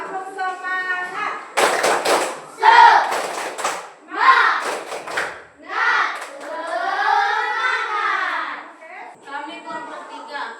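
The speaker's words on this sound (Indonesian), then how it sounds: "Yo, tepuk semangat." A classroom of students performs a rhythmic spirit clap, with bursts of patterned hand claps alternating with children's chanting voices and loud group vocalizing, close and energetic.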